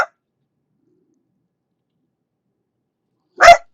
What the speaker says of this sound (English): Why is it barking?